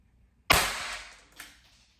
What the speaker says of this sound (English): We're going to shoot all 6 shots.